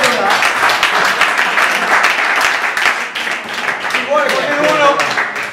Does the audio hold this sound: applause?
yes